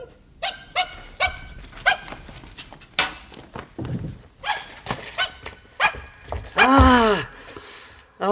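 A dog in a French-language Tintin radio drama barks and whines in short bursts amid footsteps and other sound effects, ending in a louder, rising cry near the close.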